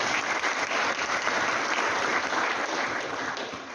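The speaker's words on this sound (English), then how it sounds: "Maybe we should clap for African leaders." An audience at an official gathering claps for African leaders, a dense, even burst of applause that holds steady and then begins to thin and fade toward the end, with no voices over it.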